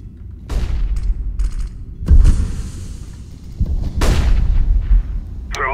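A CS:GO flashbang grenade goes off with a sharp burst, and more loud bangs and crashes follow at intervals among busy gunfire-like game noise, with no talking.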